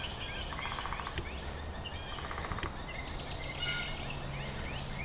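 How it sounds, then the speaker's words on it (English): A wild turkey gobbles and other birds call and chirp in the woods on a gloomy, chilly night at a hammock campsite, sounding at a middle distance over a steady rushing background. "You hear all the birds."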